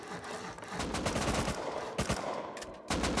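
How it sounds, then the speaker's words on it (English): Rapid bursts of AK rifle fire in the video game Rust, several sharp automatic volleys close by with brief gaps between them. "I heard an AK."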